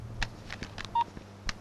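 Telephone dialing tones from a Hindi film: a quick series of faint keypad tones, one longer clear beep in the middle, over a low background hum.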